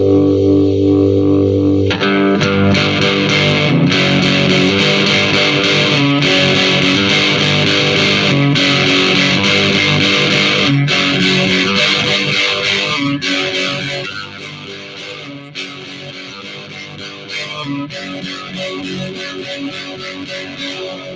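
Electric guitar played through a Bone Shaker distortion pedal, a thick, fuzzy distorted tone with sustained chords and held notes, loud and continuous throughout with a brief dip in level before resuming.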